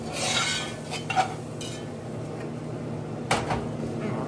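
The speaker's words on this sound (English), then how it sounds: "Stir it all up." Butternut squash soup with parsley and Italian seasoning is stirred in a pot, a soft steady swish with a couple of sharper knocks of the spoon against the side.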